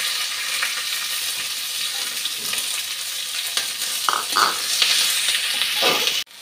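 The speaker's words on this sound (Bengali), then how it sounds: "পেঁয়াজটা ভাজা হয়ে গেছে" Oil sizzles steadily as onions, green chillies and a bay leaf fry in a pan, with occasional stirring scrapes, ending in an abrupt clatter and cutoff.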